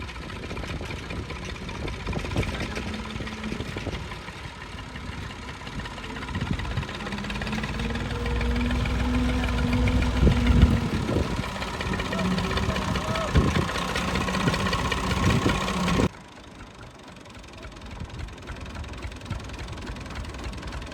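A tractor engine idles on a farm during sowing with a steady, knocking low rumble that swells and fades over time, while voices are heard at points before the sound cuts down sharply near the end.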